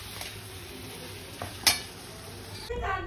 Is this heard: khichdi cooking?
yes